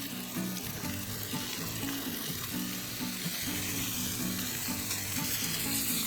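Floured osso buco meat browns in a pot, giving a loud, steady, close crackling sizzle that continues without a break and with no talking.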